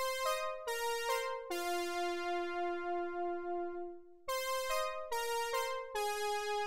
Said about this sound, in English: the poly sounds like this